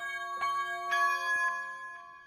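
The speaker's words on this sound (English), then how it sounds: "For example, bells." A bells preset from a creative piano sample library plays a few sustained, ringing tones with bright metallic overtones, struck in two or three overlapping hits that decay slowly.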